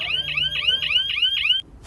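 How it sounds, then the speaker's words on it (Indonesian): A 9-volt buzzer alarm on an electric bicycle's security system sounds six rapid, warbling rising chirps in a steady repeating rhythm, loud and close, then cuts off abruptly. "maka buzzer 9 volt akan menyala"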